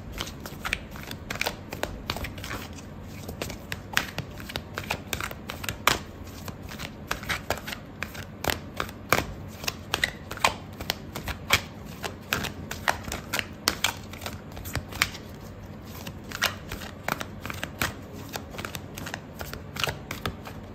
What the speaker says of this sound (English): Okay, so I'm gonna pull out a card for your advice